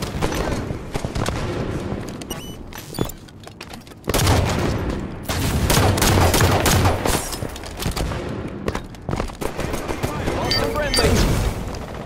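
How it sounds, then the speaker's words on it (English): Dense bursts of gunfire crackle almost nonstop in a Halo multiplayer match with a thrown grenade, with brief lulls and a sharp blast, loud and close, with a voice calling out over the fighting. "Throwing grenade."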